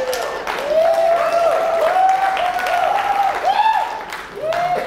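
Audience at a stand-up comedy special applauding, with sustained whoops and cheering voices riding over steady clapping for about five seconds.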